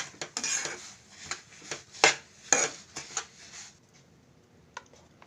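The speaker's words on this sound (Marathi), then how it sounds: "आता आपण हे गुळाच्या पाकामध्ये पूर्ण मिक्स करून घ्यायचं आहे" A spoon stirs sesame seeds and dal into thick jaggery syrup in a pot for laddoos, giving irregular close scraping and clinking strokes that thin out into a few faint taps near the end.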